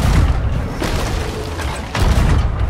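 Ship cannons fire during a naval broadside fight against a skeleton sloop in the pirate game Sea of Thieves, with a couple of heavy booms standing out over constant loud battle noise.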